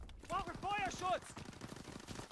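Gunshots in the Call of Duty WW2 video game, a quick run of sharp, fairly faint shots that follows a brief voice and continues under background game sound.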